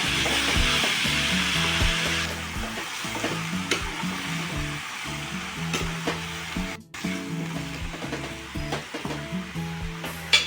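Tomatoes salted and cooking in a pan give a steady sizzle and frying hiss, broken by repeated scraping and stirring strokes, with no one talking.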